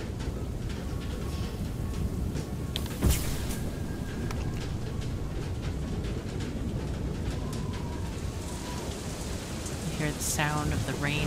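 Rain patters on the metal body of a land craft in the video game FAR: Lone Sails, a constant dense spatter broken by one sharp metallic knock and scattered pings, with a short voice near the end.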